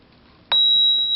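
A homemade earthquake alert model sets off its alarm, a sudden thin, steady electronic tone that starts abruptly and holds until the end.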